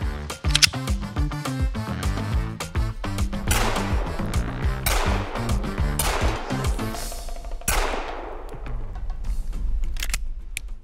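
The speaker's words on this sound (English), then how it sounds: "I'm just gonna put a couple rounds on target real quick" A PSA Dagger pistol fires a rapid series of sharp, loud shots close by, some spaced and some in quick strings, each ringing out briefly before the next.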